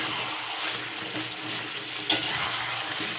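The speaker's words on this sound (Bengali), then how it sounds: "আরেকটু কষাবো মশলাটাকে, মশলা এখনও কষেনি" Spice masala fries in hot oil for khichuri, crackling steadily and close, with a brief sharp clink of the utensil against the pan partway through.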